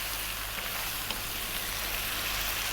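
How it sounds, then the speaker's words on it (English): Fresh chopped tomato going into a chicken and potato curry frying in a pan, giving a steady, dense sizzle close by with no talking. "We're going to add 2 cups of fresh tomato."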